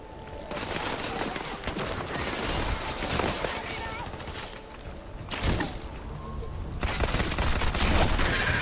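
Rapid bursts of gunfire crackle through a firefight in the video game Starfield, with repeated volleys and mechanical clatter at moderate loudness and occasional pauses between shots.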